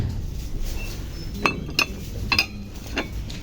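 Ceramic plates clink together as they are handled in a busy shop, giving four or five sharp, bright knocks spread over a few seconds against a low background murmur.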